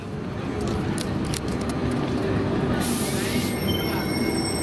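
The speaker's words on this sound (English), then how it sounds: "Now I'm just waiting for the tram, for my tram to come." Gothenburg tram pulling into a stop, with a steady low rumble of wheels and a high metallic squeal of wheels on the rails rising toward the end, close and continuous.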